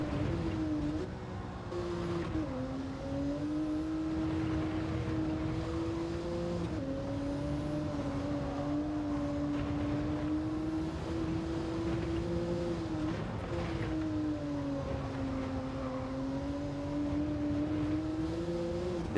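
A racing car engine drones at high revs in a driving video game, pitch climbing and dropping abruptly at gear shifts around every few seconds, loud and continuous with no talk.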